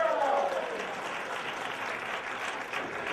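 A crowd applauds a governor at a live event, broad steady clapping filling the whole stretch at moderate loudness, with a few voices cheering early on.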